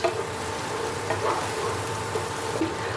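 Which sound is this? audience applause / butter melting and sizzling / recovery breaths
butter melting and sizzling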